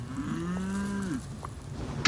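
Cows lowing in a field of livestock, one long clear moo followed by a shorter faint call, close and alone with no talk.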